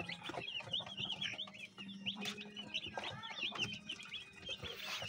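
Forty broiler chicks in a warm brooder keep up a dense, continuous chorus of high, overlapping peeps at close range, with faint background noise beneath.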